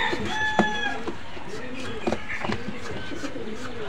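Pigeons cooing at a busy pigeon market in Khulna, soft repeated rolling coos over a steady crowd murmur, with a nearby rooster-like call and people talking in the background.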